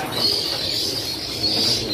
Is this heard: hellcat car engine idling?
no